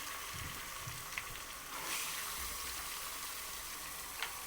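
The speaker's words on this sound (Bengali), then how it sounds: "এখন মাংস দিয়ে মাংসগুলো ভালোভাবে কষিয়ে নিব।" Beef sautéing in a pan after browned onions, a soft, steady sizzle with occasional faint stirring clinks, quiet and close.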